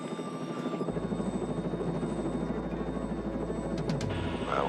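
A helicopter's rotor chop and turbine whine hold steady and loud throughout, with a low throb underneath that swells in and continues to the end, heard alone without talk.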